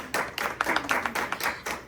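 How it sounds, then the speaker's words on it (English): An audience at a spoken-word poetry show claps to welcome a poet, a short burst of distinct, fairly close handclaps that starts abruptly and stays steady. "Clap it up."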